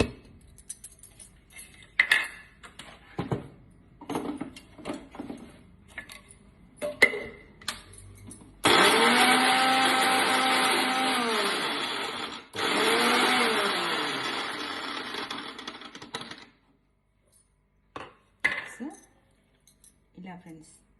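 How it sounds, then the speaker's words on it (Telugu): A mixer grinder coarsely grinds cluster beans with salt in loud whirring bursts of several seconds each, with pauses between them, and utensil clinks and small handling sounds before and after. "ఇప్పుడు ఈ చిక్కుడుకాయల్ని మనం మిక్సీలో కొంచెం సాల్ట్ వేసి కచ్చాపచ్చాగా మిక్సీ చేసుకుందాం."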